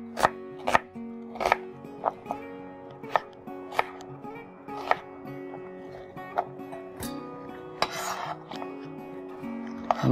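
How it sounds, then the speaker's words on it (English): A knife slices through an onion on a cutting board in a series of sharp, evenly spaced chops, loud and close, with a steady background hum and no talking. "the other cuts you can do with an onion are slices"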